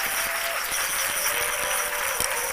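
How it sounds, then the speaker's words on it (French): Studio audience applauding a visiting women's association during a midday television talk show, a steady dense wash of clapping that fills the whole stretch at moderate loudness with no talk over it. "On les applaudit très fort."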